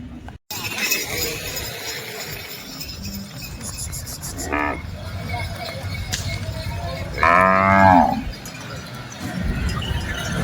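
Bulls lowing at a busy outdoor cattle market in Chalisgaon, two moos standing out over background chatter and clinking noises.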